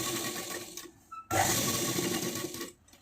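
Sewing machine stitching the crotch seam of a circular palazzo, a fast steady close chatter of the needle in two runs separated by a short pause, ending abruptly.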